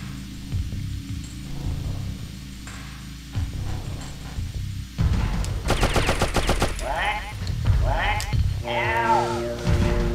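Gunfire in the video game Oddworld: Abe's Oddysee, several rapid bursts of shots over a humming game soundtrack, with game effects and chirpy noises in between.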